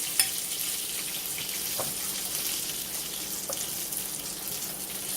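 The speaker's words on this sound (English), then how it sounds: "So don't want to fry it on high heat or it won't get done right." Floured chicken wings fry in hot oil over moderate heat, giving a steady, close, continuous sizzle with a faint crackle now and then.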